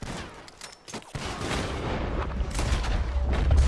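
Gunfire in the Western video game Red Dead Redemption 2 during a train robbery shootout: dense rapid volleys of shots overlapping with booming reports, loud and continuous throughout, with no talk.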